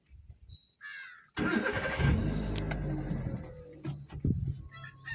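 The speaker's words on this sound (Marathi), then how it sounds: "करा गाडी चालू" A car engine cranking and catching during a driving lesson, a sharp start that settles into a steady idle rumble up close, with faint bird calls around it.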